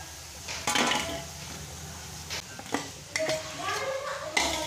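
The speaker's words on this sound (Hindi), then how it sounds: "अब इनको प्लेट में निकाल लेंगे" Fried pakoras being lifted from a pan onto a plate while making kadhi pakora, giving a few scattered clinks and scrapes of a utensil against metal and dishes, fairly quiet against a soft kitchen background.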